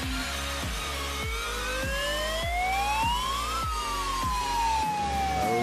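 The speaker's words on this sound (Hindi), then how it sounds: "जो सायरन बजा थे वो अभी ब्लास्टिंग के टाइम हो गई है" A blasting warning siren at an open-cast mine near Raipur winds slowly upward and then falls away, sounding from a distance over a steady rhythmic low thumping of nearby machinery or a vehicle.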